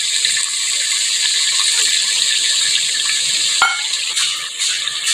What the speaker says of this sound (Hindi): आधा गिलास हम इसमें पानी डाल देंगे।